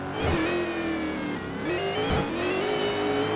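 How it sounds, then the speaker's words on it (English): A supercharged S550 Mustang drift car at a Long Beach drift competition flicks into a slide, engine loud and sustained with a rising supercharger whine, revs surging and dipping throughout. "Supercharger whining. Big flick from that S550 Mustang."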